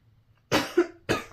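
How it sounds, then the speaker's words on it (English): A person coughs twice close by, a sharp loud burst followed by a short second hack and then a separate cough, with quiet room tone between. "I'm just gonna cough again,"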